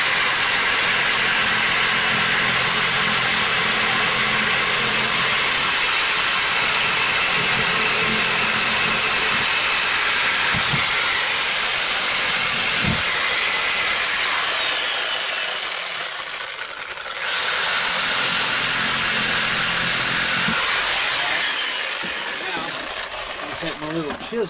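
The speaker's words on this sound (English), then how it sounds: "I'm going to saw in there real carefully, not getting into this where the glue was." Loud oscillating power saw cutting out glued plastic pipe inside a toilet flange, a sustained close whine with changing pitch that briefly drops away and restarts.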